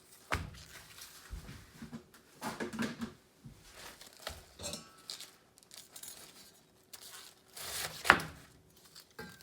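Vegetables being peeled before washing in a home kitchen for a wok noodle stir-fry: scattered soft scraping and tearing strokes in irregular bursts, fairly quiet and close, with a few sharper knocks.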